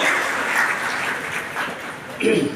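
A crowd at a students' award ceremony claps steadily in a room. The applause is loud at first, eases slightly, then swells again with a burst near the end.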